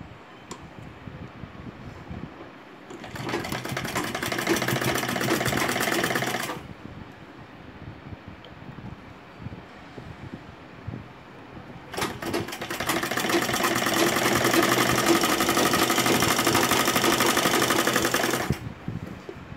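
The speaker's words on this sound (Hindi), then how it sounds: "यहाँ से अब इसको सिलना शुरू करेंगे" A sewing machine stitches a baby dress in two sustained runs, each several seconds long, with a quieter pause between them. The whirring sounds close and steady, and no one speaks over it.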